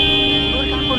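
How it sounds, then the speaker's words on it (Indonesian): A car horn blares in one continuous, steady honk, loud and close, held for the whole moment without a break. "Terus klakson itu bunyi kembali"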